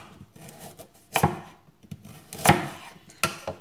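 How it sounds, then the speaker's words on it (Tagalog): Carrots are sliced diagonally with a knife on a cutting board, several sharp, distinct chopping thuds spaced irregularly and heard up close, with no talking. "Paslanting natin hiwain para medyo mahaba-haba siya."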